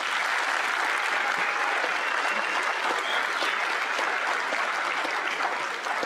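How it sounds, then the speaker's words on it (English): Steady, enthusiastic applause from a large audience at a high school graduation ceremony fills the whole stretch, loud and continuous without a break. "Let's give them a big round of applause."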